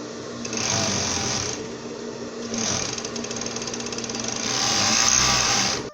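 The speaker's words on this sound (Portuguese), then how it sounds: "vou costurar no overlock" An overlock serger runs in steady, loud bursts while stitching the side seam of a top, its rapid mechanical whir rising and falling as the seam feeds through, with no talking.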